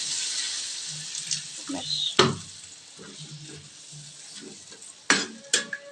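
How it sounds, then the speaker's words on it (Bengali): Spice paste frying in oil for a Bengali fish curry sizzles steadily after water goes in, with a couple of sharp louder hisses and faint stirring; no talk over it. "মশলাটার মধ্যে তেল ছেড়ে দিয়েছে এবার আমি জল দিয়ে দেবো"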